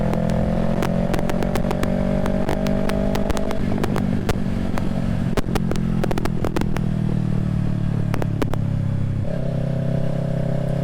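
Yamaha R3 motorcycle ridden on Florida roads with a bigger rear tire, its engine droning steadily close up and shifting pitch as it changes gear, with frequent clicks and wind rumble over the top.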